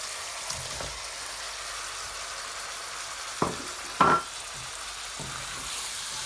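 Potatoes go into a pot of browning chicken and spices for korma, giving a soft steady sizzle with a few sharp stirring scrapes and clinks in the middle.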